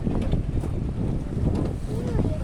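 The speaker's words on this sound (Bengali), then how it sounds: "গোপালের ঘাটে এখন বুটবুটি মেকানাইজ বোট ওখানে থামবে।" A mechanized boat on a Sundarbans waterway gives a steady low engine rumble, with wind buffeting the microphone throughout and faint voices in the background.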